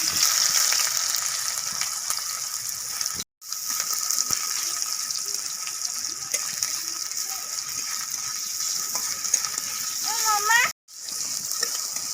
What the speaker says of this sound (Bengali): তেল গরম হয়ে গেছে, পেঁয়াজ কুচিগুলি দিয়ে দিচ্ছি।